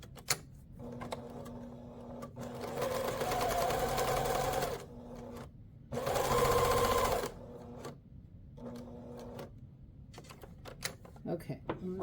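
A sewing machine stitches quilt fabric pieces together in two bursts of fast, steady mechanical whirring, separated by pauses and soft handling sounds at close range.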